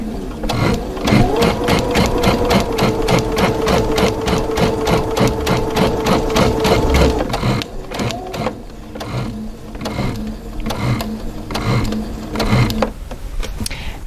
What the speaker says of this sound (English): So now I'm going to be stitching, and my guide light's going to show me that I'm coming right into that area